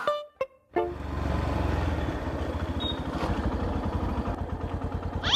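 A motorcycle engine starts up after a few brief knocks and then idles steadily with a loud, rumbling, even putter, heard close and alone throughout.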